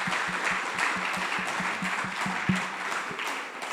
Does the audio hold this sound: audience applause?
yes